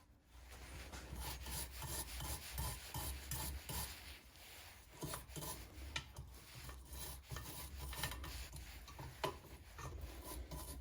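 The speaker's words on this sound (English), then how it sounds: "We're going to clean up these threads a little bit here." The threads of a brass valve from a vintage Thermos camp stove are scrubbed clean with a steady, raspy back-and-forth rubbing that continues without pause for about eleven seconds, close up and with no talking.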